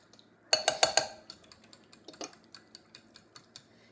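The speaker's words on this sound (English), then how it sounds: "we're just going to give that a quick stir here with our fork" A fork clinks against a bowl while stirring an egg and unsweetened almond milk mixture, with a burst of three or four sharp taps up close, then a string of lighter, evenly spaced clicks trailing off.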